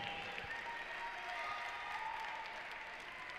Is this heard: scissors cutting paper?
no